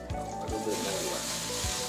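Butter sizzling around flounder fillets in a pan, a soft continuous crackle close by with a few low knocks and clatters of the pan underneath.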